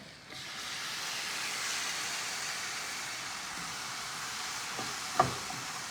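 Shrimp hit a hot pan and burst into a steady, close sizzle that holds evenly, with a faint clink near the end.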